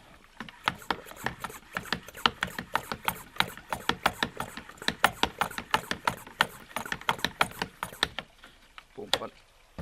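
A vacuum pump draws vacuum into an oil extraction tank during autumn lawnmower maintenance, giving a fast, steady run of sharp mechanical clicks and strokes for about eight seconds before slowing to a few final knocks.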